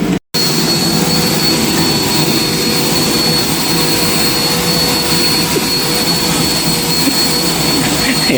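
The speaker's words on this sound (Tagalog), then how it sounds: "Mag-vacuum ka muna dyan." A vacuum cleaner roars loudly and steadily up close indoors, a constant whooshing motor drone that holds unbroken after a brief dropout at the start, with no one talking over it.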